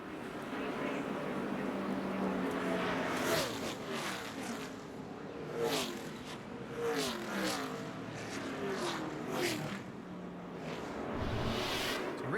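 On-board with NASCAR driver Trevor Bayne at the 2011 Aaron's 312, race car engines roar steadily at high revs with pitch sweeps as cars close in, under continuous commentary talk.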